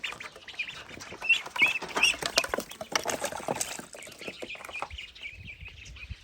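Farmyard chickens clucking while resting in the shade on a hot day, a busy jumble of scratchy calls and rustling that is loudest early on and then eases off, with no talk.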